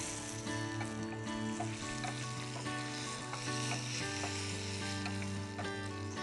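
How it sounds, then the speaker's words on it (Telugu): A tempering of curry leaves and spices fries in hot oil until reddened, a close, continuous crackling sizzle with occasional stirring scrapes throughout and no voices. "పోపు ఎర్రగా వేగేంత వరకు వేయించుకోవలను."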